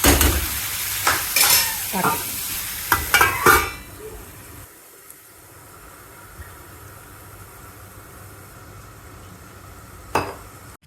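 A spoon scrapes and stirs tempered corn chevdo with a pinch of jaggery in a pan, with a few sharp clinks and rustles early on, then a long quieter stretch of faint sizzle and one more knock near the end.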